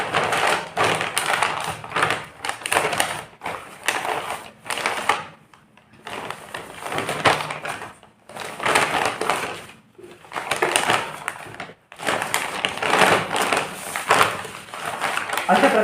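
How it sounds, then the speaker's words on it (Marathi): Fabric scraps are pressed into a polythene bag in thin layers, giving loud, close crinkling and crushing rustles in repeated bursts separated by short pauses, with a voice talking intermittently. "ही कतरण आपल्याला या पॉलिथिनमध्ये अशा प्रकारे एकदम पतली लेअर भरून घ्यायची आहे।"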